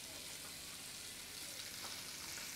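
Fresh bratwurst frying in a pan, browning on top and bottom alongside a dish of broad beans with bacon, giving a steady close hiss and crackle throughout with no talk.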